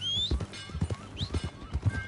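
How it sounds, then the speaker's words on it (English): Horse hooves clip-clopping in Red Dead Redemption 2, a quick rhythmic run of hoofbeats with faint whistling and background game sounds, no talk. "Get on your horse, John."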